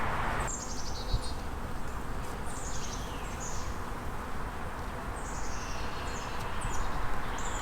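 Honey bees buzz around an open hive frame, a dense continuous hum with close passes, while birds chirp and twitter in the background.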